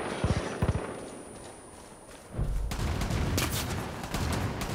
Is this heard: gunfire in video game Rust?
yes